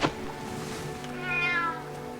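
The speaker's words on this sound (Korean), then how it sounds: "자꾸 배고프다고 야옹거려" A lynx cub in the video game Shelter 2 mews from hunger, a short rising-and-falling meow after a brief tap, close and clear over quiet game ambience.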